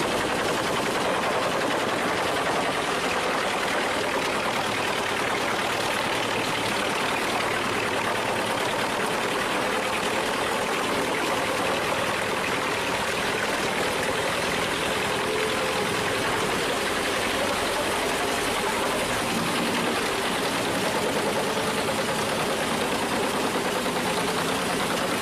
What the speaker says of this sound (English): The Pezzolato is more than just a chipper.